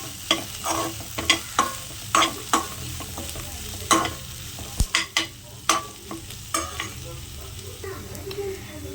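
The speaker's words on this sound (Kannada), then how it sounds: "ಚಕ್ಕೆ ಲವಂಗ ಏಲಕ್ಕಿ ಇದನ್ನು ಕೂಡ ಇದಕ್ಕೆ ಹಾಕಿ ಫ್ರೈ ಮಾಡ್ಕೊಳ್ಳೋಣ" Onions frying with cinnamon, clove, cardamom and fennel for a chicken gravy, a hissing sizzle punctuated by a dozen or so sharp scraping stirs of the spoon against the pan, close and lively, with no talk.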